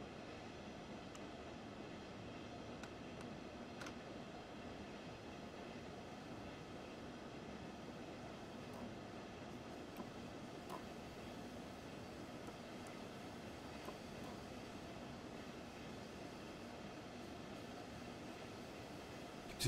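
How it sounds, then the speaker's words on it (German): A runaway train in Train Sim World 3 rumbles continuously, a dense, steady roar of wheels and motion with no breaks, sustained at an even level throughout. "Der Zug ist außer Kontrolle."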